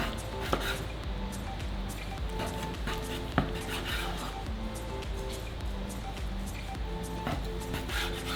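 A knife slices through a rack of smoked pork baby back ribs on a cutting board, soft repeated cuts and scrapes at close range, with a couple of sharper taps as the blade meets the board.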